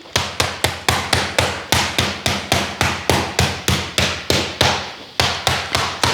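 A rolling pin pounds seasoned turkey or chicken flat through paper in a fast, even series of about twenty sharp thuds, one after another with short gaps, close and alone without talk.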